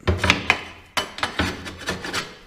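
A shovel or scraper digs out packed snow in a handful of short, rough scraping and chopping strokes, close and fairly loud, with no talking.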